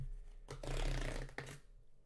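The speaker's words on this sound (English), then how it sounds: "There's just a strip on the back here that we will peel off to get into it." A tear strip peeled off the back of a Benks PassionGreen ArmorAir iPhone 15 Pro Max gift box, heard as a close, roughly one-second ripping scrape with a sharp snap near the end.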